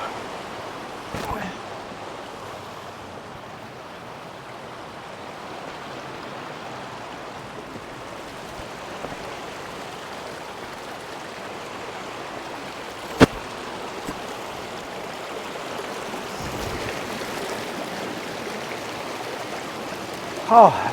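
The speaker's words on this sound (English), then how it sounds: "Little rapids, little waterfalls." Small river rapids and little waterfalls rush steadily outdoors, a continuous broadband wash of flowing water with a few faint knocks and handling noises near the recorder.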